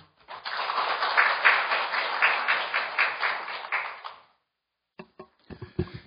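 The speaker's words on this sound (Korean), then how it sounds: "정말 큰 박수로 모시겠습니다" An audience at a Korean history-textbook forum's opening ceremony claps steadily for about four seconds to welcome a speaker, the dense applause then cutting off into near silence before a few faint knocks.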